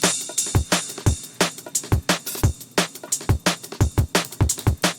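Drum and bass beat with sidechained ride cymbal samples: punchy kicks and snares in a busy groove, while bright, shimmering ride hits swell and duck rhythmically with each drum hit, played loud and up front.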